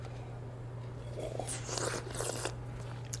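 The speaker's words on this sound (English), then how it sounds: "You can try to take in air to further aerate it." A wine taster drawing air through a mouthful of wine to aerate it, a close, wet slurping and gurgling burst lasting about a second over a steady low hum, with no talk.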